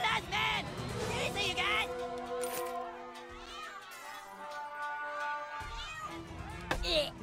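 A cat meows in the South Park video game, several short tonal cries over busy game sounds and overlapping chatter, with people talking throughout.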